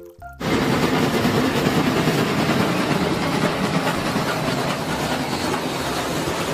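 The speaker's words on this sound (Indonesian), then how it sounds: "lihat teman-teman, di sini ada kereta api." A toy train runs with a loud, continuous rattling, clattering rumble that starts abruptly after a brief quiet moment and carries on steadily, close by, with no talking.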